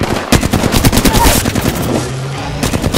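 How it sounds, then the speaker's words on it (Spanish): Machine gun fire in a Fortnite-style shooter video game, loud, dense rapid bursts of automatic shots that rattle on continuously and fill the whole stretch, with a brief voice briefly mixed in. "Están disparando."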